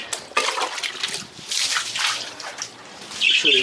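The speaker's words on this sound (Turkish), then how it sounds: "Biraz arkadaşlar yerlere su döküyoruz şimdi." Water splashes and pours across a balcony floor during cleaning near budgie cages, a broad hissing wash that rises and falls in bursts, with faint bird chirps near the end.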